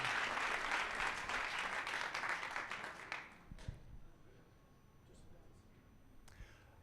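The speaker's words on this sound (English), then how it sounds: "please join me in giving a round of applause to Tarka" Audience applause fills a summit hall after an investment presenter is introduced, loud and dense for about three seconds before fading into scattered claps and room murmur.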